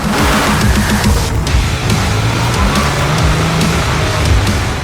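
Stunt car driven up onto two wheels, engine droning loud and close with shifting low revs and tyre scrub, steady and continuous throughout with no voices.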